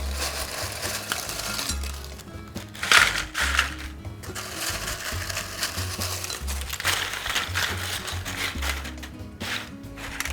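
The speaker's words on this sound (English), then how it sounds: "So I'm going to take our chips and pile them on top of the cookie sheet." Crisp crunching and rustling as tortilla chips are piled onto a parchment-lined cookie sheet, in irregular bursts with a low background hum.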